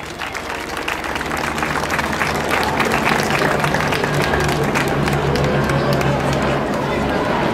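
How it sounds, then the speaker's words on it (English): Outdoor crowd applauds Miguel Santana at a Boyle Heights City Hall grand opening ribbon cutting, loud sustained clapping with cheering and chatter mixed in, a low hum beneath. "Let's give a huge round of applause to Miguel Santana."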